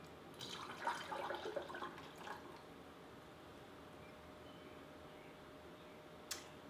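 Distilled water is poured into a bottle for a homemade tick spray, a faint, brief trickle and splash in the first couple of seconds, then near silence broken by a single small tap.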